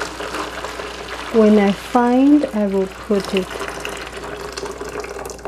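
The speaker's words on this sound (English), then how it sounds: "let me first pour the water in" Water pours steadily into a glass pot while making yogurt with jelly and chestnut paste, a continuous close splashing wash heard under a person talking.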